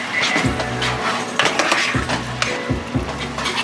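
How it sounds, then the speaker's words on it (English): Soup mix and about half a cup of water bubble in a pan, a steady close simmering hiss with soft pops and occasional thumps, heard alone without talk. "it will pick back up again and start boiling again"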